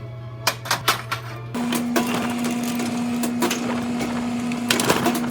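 A few sharp metallic taps sound first, then a steady mechanical whir with a constant tone starts up as the seam of a hand-hammered brass horn bell is run through a roller, with a few clanks near the end.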